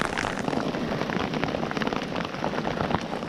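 Steady rain pattering hard on a surface at a lakeside campsite, a dense continuous wash of drops, close and fairly loud throughout with no voices.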